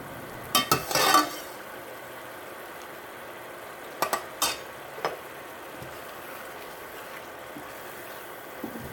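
Butternut squash risotto rice is stirred with liquid in a pan: a few short scraping, sloshing strokes come up close, with quiet simmering between them.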